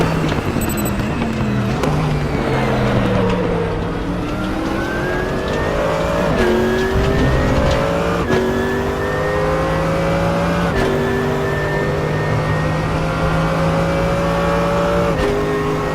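Mercedes-AMG GT3 race car in the RaceRoom racing game, its engine loud and close as it revs up through the gears, with repeated upshifts and a steady high drone throughout, no talking.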